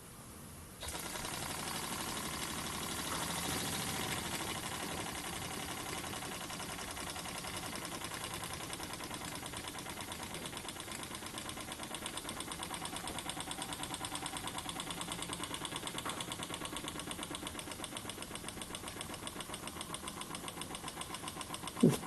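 A small homemade model engine built from bits and pieces, running on compressed air at minimum pressure, ticks over with a fast, even, steady beat for the whole stretch, close and fairly quiet.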